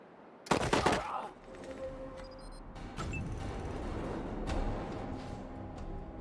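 Guns fire in a battle in the video game Wasteland 3: a loud burst of automatic fire opens, then scattered shots and a rumbling din continue behind it.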